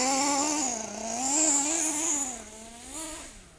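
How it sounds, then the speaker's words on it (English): Kyosho USA-1 nitro RC monster truck engine, a buzzing, high-pitched whine that rises and falls through repeated throttle blips, moderately loud and unaccompanied by speech. "you blip that throttle"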